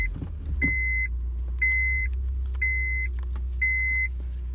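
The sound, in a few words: Honda Fit car starting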